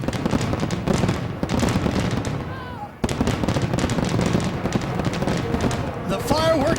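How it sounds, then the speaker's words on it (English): Fireworks go off at a Monster Energy Cup stadium event, a dense, continuous barrage of loud pops and crackles that barely lets up, with voices faintly mixed in. "The fireworks are going off"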